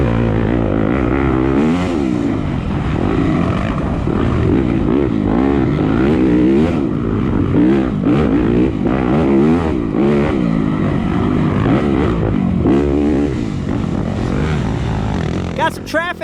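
A loud dirt bike engine roars and revs continuously through a sprint enduro race at Unadilla, the pitch rising and falling with throttle and gear changes, with a rider talking over it throughout.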